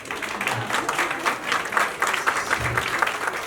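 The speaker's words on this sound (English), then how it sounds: "Please clap." An audience claps at a book launch, producing a moderate, continuous patter of many hands that stays fairly even throughout, with faint voices underneath.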